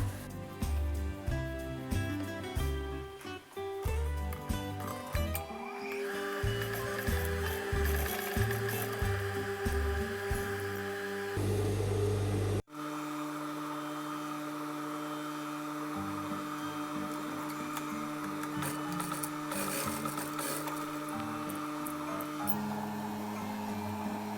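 A sewing machine stitches the waistband of a skirt that has fabric inserted to widen the waist and hips, running in short stop-start bursts of rapid ticking and then a longer steady hum, close and fairly quiet.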